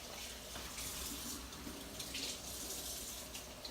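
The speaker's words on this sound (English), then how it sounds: "Let me rinse my hands." Tap water runs steadily into a sink while hands are rinsed after preparing a Cajun shrimp dip, a constant soft rushing hiss with no talking.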